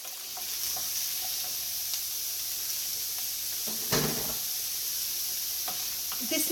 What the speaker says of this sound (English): Now I'm going to add the inside of the zucchini.